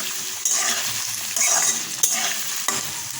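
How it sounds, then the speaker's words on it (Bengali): Chopped onion sprinkled with salt stirred in hot oil in a pan, a loud, close sizzle with four distinct scraping strokes of the spatula at regular intervals, with no voices. "এরপর দিয়ে দিচ্ছি পেঁয়াজ কুচি, উপর থেকে দিয়ে দিলাম নুন, নাড়াচাড়া করে"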